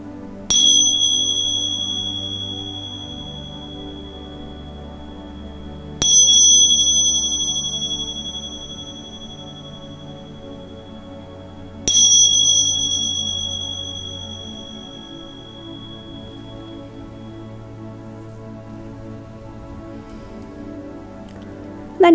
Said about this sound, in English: end the meditation today with the sound of the Indian chimes